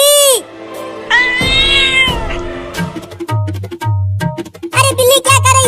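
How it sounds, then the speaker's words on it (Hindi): Cartoon cat meowing and caterwauling repeatedly, loud and close, with a few drawn-out cries among shorter mews over light background sound. "अरे बिल्ली क्या कर रही है?"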